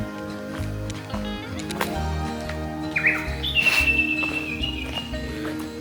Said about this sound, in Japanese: この鳥の鳴き声すごいいい。